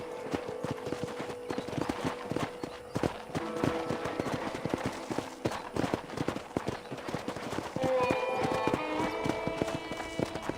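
Steady hoofbeats of a ridden horse clatter along in the game Red Dead Redemption, with sharp percussive bursts mixed in and a brighter musical layer entering near the end.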